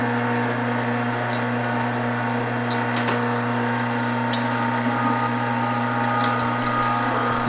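A meat grinder works venison into a fine grind for breakfast sausage, its motor holding a steady, loud mechanical hum with no break. Faint clicks and rattles sit on top of the drone, and no one speaks over it.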